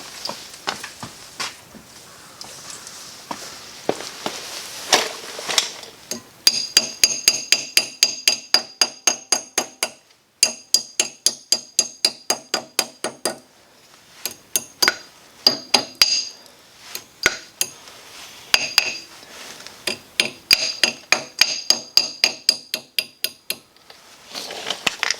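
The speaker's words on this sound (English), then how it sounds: "Get a little hammer." Metallic ringing taps from a small hammer striking a Volkswagen drum brake, in quick rhythmic bursts with brief pauses, bright and close.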